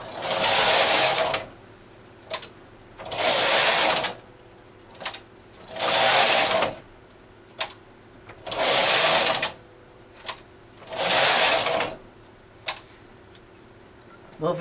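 Knitting machine carriage working short rows on a mitten, sliding across the bed in five loud, even whooshing passes of about a second and a half each, with small clicks and mechanical ticks in the pauses between.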